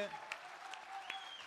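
A live awards-ceremony audience claps in brief, scattered fashion, faint and distant. A voice speaks over the applause.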